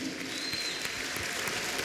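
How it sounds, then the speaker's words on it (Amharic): Applause fills a church service, a steady dense clapping from the congregation with a high ululation trilling briefly over it, sustained throughout. "እልልታ ጭብጨባ ለእግዚአብሔር ክብር ይሁን"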